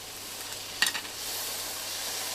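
Soy and hoisin sauce sizzle as they are stir-fried in a NutriWok. A steady soft hiss runs throughout, with one brief sharper crackle near the middle, and no one speaks.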